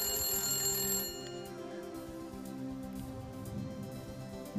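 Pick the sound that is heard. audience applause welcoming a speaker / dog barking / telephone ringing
telephone ringing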